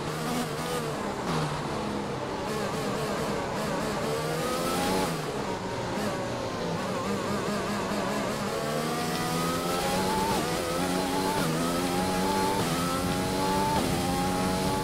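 An F1 car engine in the F1 2020 racing game screams continuously at high revs, its pitch repeatedly climbing and dropping through upshifts and downshifts over a long stretch of racing, loud and steady with no speech.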